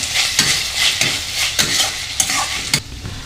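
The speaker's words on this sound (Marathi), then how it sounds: "आता आपण टोमॅटो ॲड करूया। व्यवस्थित परतून घ्यायचे।" Onion and tomato sauté for street-style anda bhurji, a loud close sizzle broken by sharp, regular spatula clacks against the pan as the mixture is stirred.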